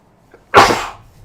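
A single loud, close sneeze, with a short sharp inhale just before it, from a person suffering allergies during a live broadcast.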